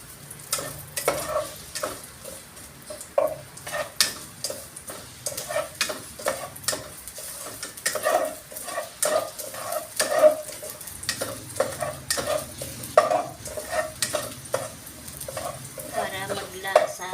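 Ginger sautés in a pan for chicken tinola, with a soft continuous sizzle and repeated scraping, stirring utensil clicks on the pan in an irregular rhythm, fairly close.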